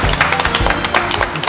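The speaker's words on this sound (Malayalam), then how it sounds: "സ്മിത ആദ്യമേ കൈയടിക്കുന്നു" Applause on a TV cooking competition set, a dense patter of hands clapping together, steady and fairly close, filling the short moment without pause.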